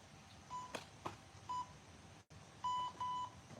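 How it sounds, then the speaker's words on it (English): Small workout interval timer set for one-minute rounds, giving several short, clear electronic beeps in an uneven pattern, then a longer pair of tones, faint and alone in a quiet room. "So I got my little timer, 60 sets, 1 minute each."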